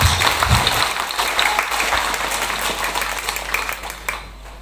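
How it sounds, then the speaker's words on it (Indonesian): A church congregation applauds during a sermon with dense, sustained clapping that gradually tapers off toward the end. "Tepuk tangan"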